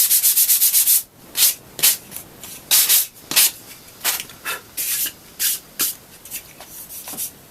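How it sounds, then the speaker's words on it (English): Hand sanding of MDF board produces steady rhythmic scrubbing strokes, a rapid burst of short passes then longer, evenly spaced rasping sweeps, loud and close with no talking. "What you've got to do is you've got to sand it."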